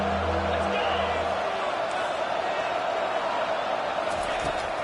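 College football stadium crowd roaring on a big third down, a dense, sustained wall of cheering and whoops that stays loud and steady throughout, with scattered voices within the crowd.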